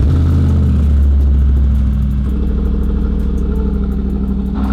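A car engine that has not run in months rumbles loud and close, a deep steady idle with low throbbing pulses and a slight shift in pitch partway through, with no voices.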